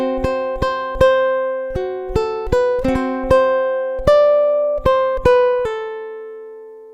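A ukulele picks measures of a melody as a run of about fourteen clear single plucked notes in an uneven rhythm, close and alone, with the last note left ringing.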